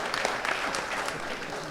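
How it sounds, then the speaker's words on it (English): Brief burst of audience clapping at a town hall meeting in St Joseph, a dense patter of many hands in a room, fairly close and fading after under two seconds. "Give her a round of applause."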